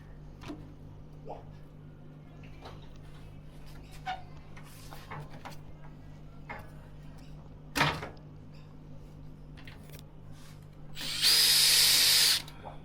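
A power drill whirs in one loud, steady burst near the end while a screw is backed out of an Asko washing machine door lock, after scattered faint clicks and handling noises.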